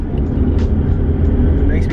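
An old car driving along gives a loud, steady rumbling drone of engine and road noise with rattling, constant and close throughout.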